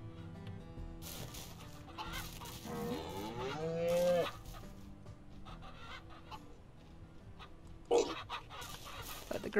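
Cows moo loudly in a farm scene of the video game Ranch Simulator, with one long rising moo in the middle, chickens clucking faintly around it and another short call near the end.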